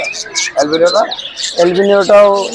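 Caged cockatiels and other birds at the Meradiya bird market chirp in high, short bursts over loud nearby talk.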